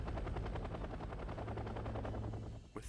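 Military helicopters in the war strategy game Wargame Red Dragon, a loud rapid rotor chop pulsing steadily throughout, with a faint burst that may be gunfire near the end.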